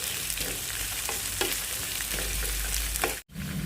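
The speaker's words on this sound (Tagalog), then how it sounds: "Tapos itong sibuyas, kailangan yung mag-brown siya, yung i-caramelize natin" Onions frying and caramelizing in a pan for a tortilla de patata, a loud continuous close sizzle with occasional stirring scrapes, briefly cut off near the end.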